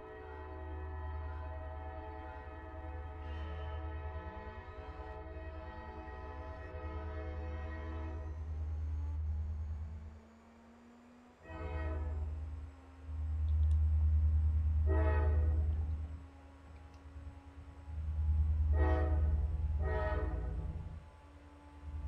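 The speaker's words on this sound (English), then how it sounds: "I have a train coming by my house" A train rumbles past close by, its deep engine drone steady throughout while the horn sounds in several loud blasts, the last few long and overlapping near the end.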